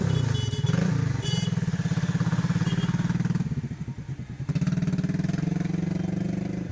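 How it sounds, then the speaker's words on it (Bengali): A motorcycle engine runs steadily through a test ride, its mid-pitched drone rising and dipping briefly before settling again, fairly close and continuous. "গাড়িটা একটু চালিয়ে দেখাই দিচ্ছি।"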